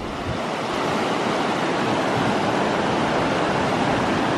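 A fast-flowing mountain river rushes loudly and continuously, a dense, even roar of churning water with no voices over it.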